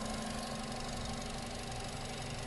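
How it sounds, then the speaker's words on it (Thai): A 2008 Nissan Tiida 1.6 G sedan idles steadily, its 1,600 cc engine giving a constant, even hum with a faint mechanical tick and no other sound. "เครื่องเดินดีปกติทุกอย่างครับ"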